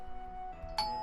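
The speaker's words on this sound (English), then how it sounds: "I rang the bell again and also tried calling out." A doorbell in the horror video game Corpse Party Book of Shadows rings near the end with a bright electronic chime, over a quiet sustained musical drone.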